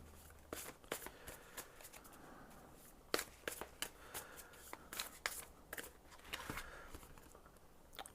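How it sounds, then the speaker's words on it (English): A deck of angel wisdom oracle cards is shuffled by hand at close range, giving a quiet series of sharp riffling flicks and soft slaps at irregular intervals, with no talking. "Now you see me shuffle this."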